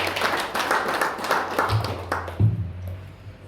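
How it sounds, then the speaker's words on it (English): An audience at a poetry festival interview claps for a guest, a sparse scatter of individual claps that fades after about two seconds, leaving a low hum and a couple of isolated knocks near the end. "Give her a round of applause."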